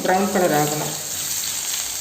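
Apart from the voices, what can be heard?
crushed garlic frying in oil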